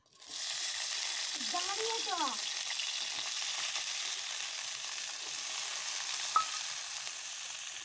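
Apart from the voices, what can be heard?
beans frying in oil in a pan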